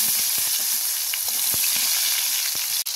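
Raw green mango frying in oil with dry red chillies and five-spice seeds after fish was fried, a loud continuous close sizzle broken by scattered pops and stir knocks, with no talking.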